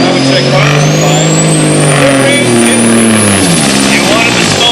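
A 1980 Peterbilt 359 tractor pulling a sled at a truck pull, its engine roaring loud and close with a long rising rev that sags toward the end.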